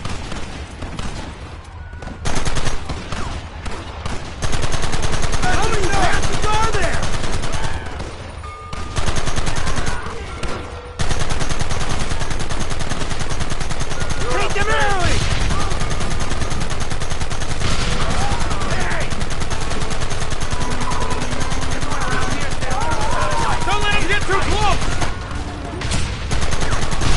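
Dense gunfire from the Western video game Red Dead Redemption, with overlapping shots and volleys forming a near-continuous loud barrage mixed with other game sounds.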